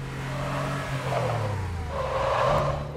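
A vehicle drifts in the Halo 2 Metropolis mission, its engine droning and shifting pitch under a steady rising and falling tire-scrub hiss, close and continuous without speech.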